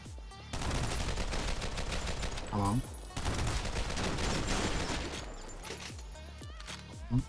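Dense rapid gunfire from the video game OTXO, with loud bursts of automatic shots and crashes filling most of the stretch.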